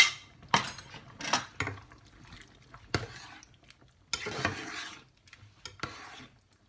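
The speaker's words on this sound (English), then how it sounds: "I'm gonna add it to my soup. Mix it." A pot of chicken noodle soup with carrots being stirred, close and quiet, with irregular bursts of scraping and sloshing separated by near silence.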